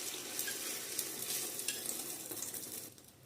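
Egg frying in oil in a pan on low flame gives off a fairly quiet, constant hissing sizzle, broken by light scraping and stirring.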